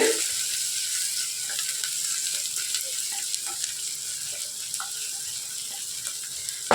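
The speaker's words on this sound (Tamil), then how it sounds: "சேர்த்துட்டு நல்லா வதக்கி விட்டுருங்க பச்சை வாடை போகிற அளவுக்கு" Ginger and garlic sauté in a pan for vegetable kurma, a continuous close bright sizzle with occasional faint scrapes and ticks of stirring, steady in level from start to finish.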